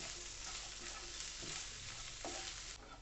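Raw banana pieces coated in spices are stirred in a frying pan, giving a steady close sizzle with soft scraping strokes and a couple of brief knocks, and no voices.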